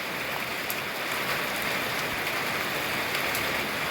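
Heavy rain pouring steadily in a rural home setting, a loud dense hiss of drops hitting surfaces, constant and unbroken with faint sharper spatters, no voices.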